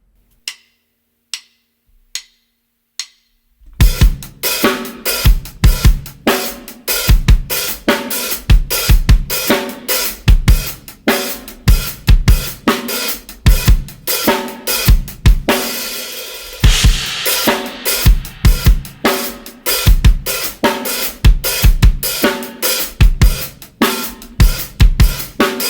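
A full drum kit plays a groove at a slow tempo, with a few isolated hits before the beat comes in. Steady, punchy kick, snare and cymbal strokes then repeat up close and loud.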